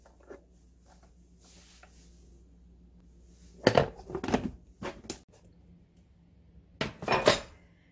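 Quiet room, then a couple of bursts of ceramic clatter and scraping as a water-filled plate is pushed down against a container of dongchimi, Korean radish water kimchi.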